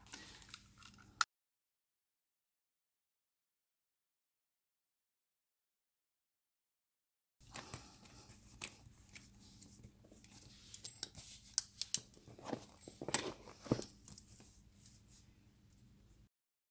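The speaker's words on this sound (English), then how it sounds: "I am going to tape it together." Paper planner layout pages being taped together at a desk: after a silent gap, a run of close crinkly paper handling, tape tearing and sharp ticks and snaps, fairly loud and uneven with no talking.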